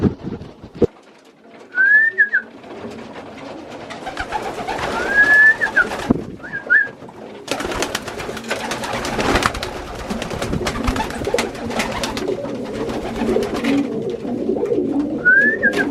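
Young pigeons coo softly amid fluttering wings and scratchy movement at a trough, with a few clear whistled calls repeating through the clip.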